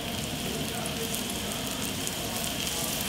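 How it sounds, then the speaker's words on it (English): Scallops searing in hot olive oil in a pan, a steady, even crackling sizzle that holds throughout at moderate level, close to the pan. "And you got a nice sizzle going,"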